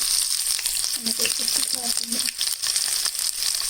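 Chopped onions fry in a pan with a close, continuous crackling sizzle, and a voice murmurs briefly partway through.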